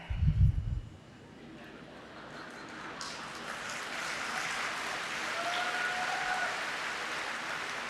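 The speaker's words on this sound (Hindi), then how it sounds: "ताली क्यों बजा रहे?" After a short burst of speech, an audience at a Toronto spiritual talk breaks into soft, distant clapping that swells gradually and continues as a diffuse patter.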